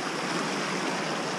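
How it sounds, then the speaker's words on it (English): River water rushing steadily at a gold-panning spot in Tyndrum, a dense continuous hiss of flowing current close by, with no voices. "Get away from the river noise."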